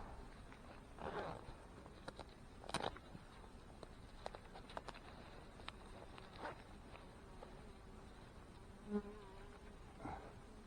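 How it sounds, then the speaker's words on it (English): A steady, dense buzz of many honey bees fills the air, with a few louder passes close by and occasional light knocks. "Lots of bees working here."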